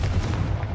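A Confringo blasting spell fires in Hogwarts Legacy, a single dense, booming burst that fills the short moment at steady loudness with a heavy low rumble.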